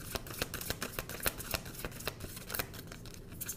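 Tarot cards shuffled and drawn close up, a quick run of crisp riffling flicks and soft slaps repeating through the whole stretch with no talk.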